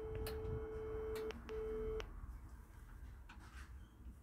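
Old telephone box phone giving a steady electronic tone in the handset, a long beep and a shorter one, then quiet room noise, recorded close but faint, with no talking.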